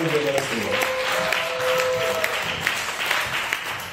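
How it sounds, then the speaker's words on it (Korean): Audience applause at a church fellowship workshop, a dense, steady patter of clapping across the room with some voices and murmuring mixed in throughout. "다시 한번 수고한 우리 시험팀에게 박수 한번 드리겠습니다"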